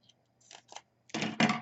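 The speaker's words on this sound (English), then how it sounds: "I'm going to cut this little piece off." Scissors cutting a small piece of craft paper, a few faint snips followed by two louder, close crisp cuts in a quiet room.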